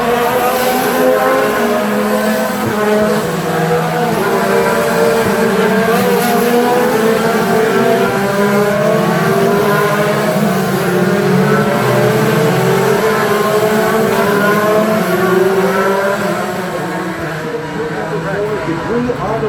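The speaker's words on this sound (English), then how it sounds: "Green flag and the Freedom 250 Grand Prix begins." IndyCar race cars start the Freedom 250 Grand Prix on a race course, engines roaring loud and continuous from trackside with rising and falling revs, while a commentator talks over the noise.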